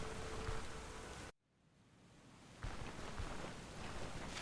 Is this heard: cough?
no